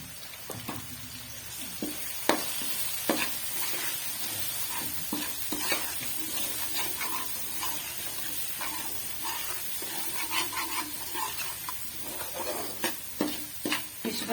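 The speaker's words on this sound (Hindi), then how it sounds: "थोड़े से इसमें खड़े मसाले डाल देते हैं मिक्स।" Whole black pepper, cumin and cinnamon sizzle in hot oil while a spoon stirs them, with a steady close frying hiss broken by scraping clicks against the pan, all while making a fish curry.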